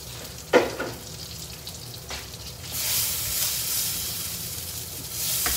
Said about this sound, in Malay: Limpa ni nak bagi dia goreng dalam keadaan yang cantik, yang garing kan